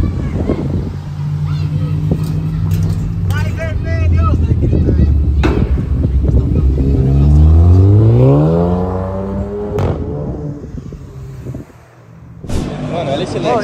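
Original Honda Civic Type R accelerating away from a car event, engine revving up in rising sweeps that peak loud before fading, with people talking and a crowd nearby.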